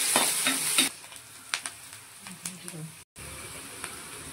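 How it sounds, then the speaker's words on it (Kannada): Chopped onion going into hot oil with cumin seeds, garlic and curry leaves, a burst of loud sizzling that quickly settles into softer frying with scattered stirring scrapes. "ಇದಕ್ಕೆ ಈರುಳ್ಳಿ ಆ್ಯಡ್ ಮಾಡ್ಕೊಳ್ಳೋಣ."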